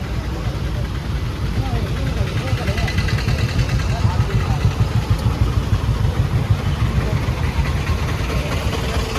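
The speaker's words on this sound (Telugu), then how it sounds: "ఓ ఫుల్ ట్రాఫిక్ ఉంది" Heavy road traffic with motorcycles and other vehicles idling, forming a steady, close, low engine rumble that continues throughout, with voices mixed in.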